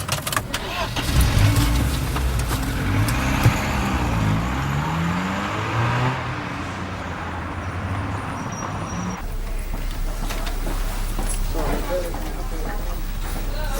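A car pulls away and speeds up, its engine noise steady and fairly loud throughout, with a shift in the road and engine tone partway through and voices speaking over it.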